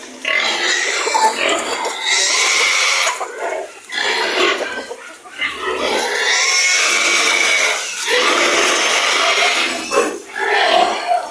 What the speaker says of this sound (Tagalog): yung ating mga alagang baboy dito na ina-chance sila ng pagkain. Kaya yan, maingay.